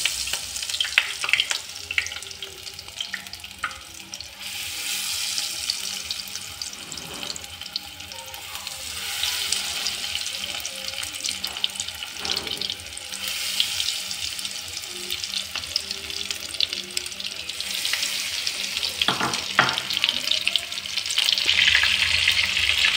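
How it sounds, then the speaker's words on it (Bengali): Prawns frying in hot oil make a continuous crackling sizzle close by for a long stretch, with occasional clinks and scrapes of a spatula and a swell in hiss toward the end, with no voices. "তেলটা গরম হয়ে গেছে। এখন আমি মাছটা দিলাম।"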